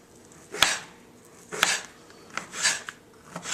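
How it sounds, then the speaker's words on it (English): A knife cuts thin slices of pheasant back mushroom on a board, making about five crisp, close chopping strokes at an uneven pace with no voices. "What we're going to do is just cut real nice thin slices up."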